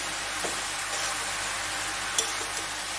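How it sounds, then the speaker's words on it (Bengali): Bottle gourd with chili powder is stirred in a pan, a soft steady sizzle and faint scraping with a couple of light clinks, quiet and close, no talking. "ভালো করে নেড়ে নিই।"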